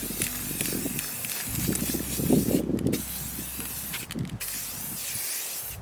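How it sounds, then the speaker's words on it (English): Spray can applying a first coat of white primer to bar stools outdoors, with steady hissing bursts of spray continuing throughout amid light outdoor background noise. "I took the bar stools outside so that I could spray paint them with the first coat of white primer"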